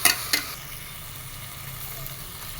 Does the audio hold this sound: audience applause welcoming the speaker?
no